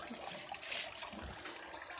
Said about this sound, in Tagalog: may tubig naman po kami dito kaso di po to pwedeng inumin. Amoy kalawang po.